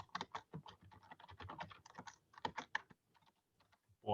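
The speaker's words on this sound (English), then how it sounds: "I gotta get a new keyboard." Rapid typing on a computer keyboard with a faulty key, bursts of close, crisp keystrokes that thin out to a few scattered taps before a louder clack at the end.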